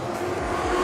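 Race cars roar around the Carina Speedway dirt oval during an AMCA Nationals Queensland title race, a loud, steady engine drone that builds slightly as cars close in, with no talk over it.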